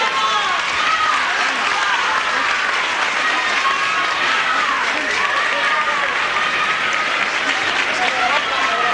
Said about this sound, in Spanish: el primer aplauso que interrumpe el silencio